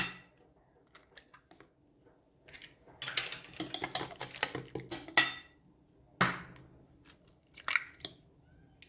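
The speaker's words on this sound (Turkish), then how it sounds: "Önce tek tek şu çırpıcıyla yedirelim." Eggs being beaten one at a time into cheesecake batter with a hand whisk, producing bursts of quick clattering strokes against the bowl separated by short quiet pauses.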